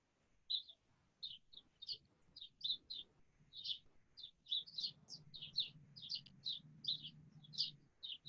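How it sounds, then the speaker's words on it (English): Pet birds chirp and call in quick, bright bursts throughout, fairly close and fairly faint, with a low hum underneath and no talk. "Somebody's birds are pretty vocal."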